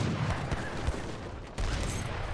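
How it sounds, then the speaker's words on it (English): A battle in the Age of Empires 3 video game, with mortars and musket fire: a dense, continuous roar of overlapping gunfire and explosions with a brief dip partway through, loud and without speech. "Looks like mortars hitting the infantry force."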